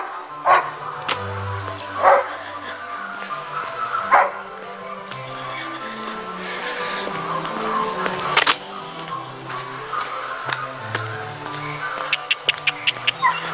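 At a countryside property in Seongju, a large dog barks in scattered loud bursts at irregular intervals, with quieter yips between them and a quick run of sharp clicks near the end.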